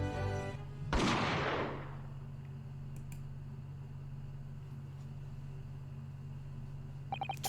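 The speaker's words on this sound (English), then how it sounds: "Jikagu shot Asogi from the shadows" A single sharp gunshot in The Great Ace Attorney Chronicles, one loud crack fired from the shadows that fades into a steady low hum, with a few faint clicks near the end.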